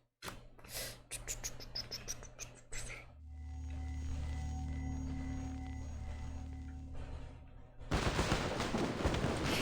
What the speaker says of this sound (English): Against the rattle of gunfire outside, the warehouse seems unnervingly quiet.